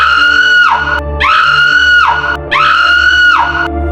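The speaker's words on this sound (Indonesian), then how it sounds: "Jeritan banyak suara" Many voices scream together as a horror story sound effect, in three long, loud, sustained wails with a falling end. A low rumble runs beneath them.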